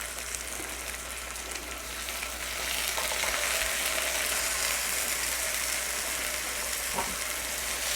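Tomatoes sautéing in olive oil in a pan, a loud, steady, close sizzle and crackle that swells slightly partway through, with an occasional clink of a utensil.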